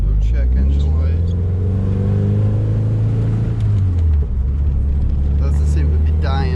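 A 400 whp Subaru WRX being driven, its engine droning and rumbling steadily inside the cabin, with pitch rising and falling as it accelerates and shifts.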